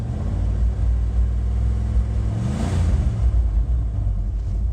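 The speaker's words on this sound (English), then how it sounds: "I give it a rev." A 360 engine with 146,856 miles and low oil pressure is revved once from a hot idle, the steady rumble swelling into a rising roar midway before settling back, loud and close.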